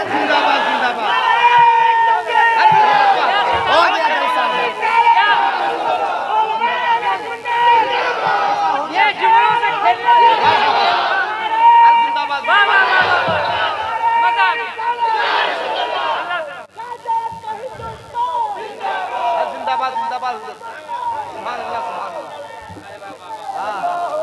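Large crowd at a religious conference chanting together in loud, sustained bursts of massed voices that roll on for many seconds, dipping briefly before swelling again.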